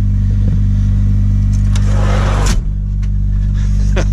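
A car engine idles steadily while warming up after sitting for two days, with the heater running; a constant loud low hum continues throughout, with a brief click partway through.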